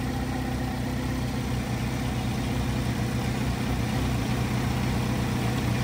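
A 2009 Chevy Cobalt's 2.2-liter four-cylinder engine idles steadily under an open hood, a constant close-up hum and rumble with no change in pitch and no talking.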